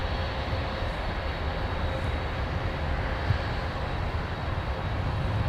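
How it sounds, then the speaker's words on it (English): A FedEx heavy cargo jet taxiing along a taxiway toward the ramp at MSP airport, producing a steady, loud broadband engine roar and whine that holds constant throughout with no talking. "FedEx 798 Heavy. Traversing taxiway Tango to the ramp."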